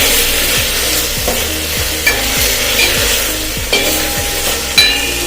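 Chopped ridge gourd and tomato stirred in a hot tempering, rhythmic scraping strokes of a ladle against the pan about twice a second over a steady sizzle, loud and close with no voices.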